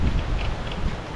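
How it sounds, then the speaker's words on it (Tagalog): Strong wind blows steadily outdoors in Canada, a loud, continuous rushing roar buffeting the microphone with no clear pauses. "biglang lumakas ang hangin"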